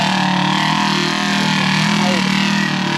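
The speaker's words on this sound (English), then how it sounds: "The car is so loud." Polaris RZR off-road car engine during desert pre-running, a loud, dense, continuous roar with steady droning tones throughout, sounding close and unbroken until a brief dip at the very end.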